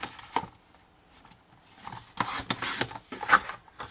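Scissors cutting through scrapbooking paper with a seam allowance of about 1 cm, a few short crisp snips and rustles close by, louder in a cluster near the end.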